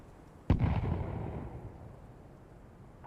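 A grenade detonates in Counter-Strike: Global Offensive, a sharp loud blast at the start followed by a rumbling decay that fades over a few seconds, with another sudden hit right at the end.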